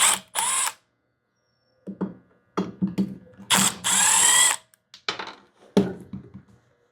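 Ratchet and tool work unbolting the oiler on a Stihl MS390 chainsaw: bursts of clicking and rattling with short gaps and pauses, close and fairly loud, no talk.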